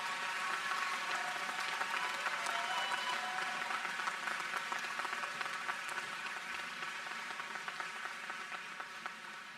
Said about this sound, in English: I ask our graduates to join me in a hearty round of applause to thank your families and friends